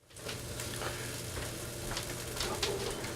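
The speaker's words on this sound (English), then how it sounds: "I'm still frying the vegetables." Vegetables fry in hot oil with a steady, close crackling sizzle that runs continuously and evenly, with no talking.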